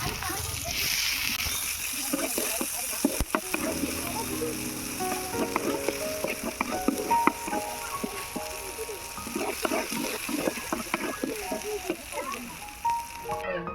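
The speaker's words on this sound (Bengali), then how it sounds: "রসুনটা ভেজে নেব। একটু পেঁয়াজও ভেজে নেব।" Garlic, onion and green chillies fry in a pan with a steady close sizzle and occasional spattering pops, while a voice speaks over the cooking.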